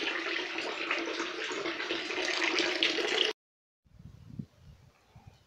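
Mountain spring water gushes in a steady splashing flow, then cuts off abruptly and is followed by faint low rumbles and quieter trickles.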